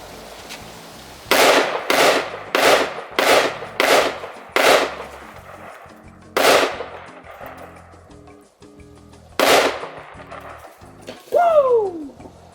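Gunshots from a Radical Firearms RF15 AR pistol fired outdoors: nine loud, sharp reports, the first five in a quick regular string, then spaced single shots, each ringing out with echo; a voice whoops briefly at the end.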